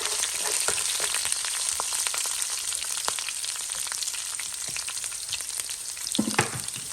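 Chopped ginger sautés in hot oil for a Kerala-style crab roast, a loud, continuous close sizzle with scattered crackles and occasional stirring scrapes, briefly louder near the end.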